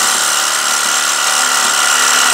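Power tool grinding through rusted sway bar end links on a Honda Accord, a steady, loud, continuous high-pitched whine held at close range with no talk.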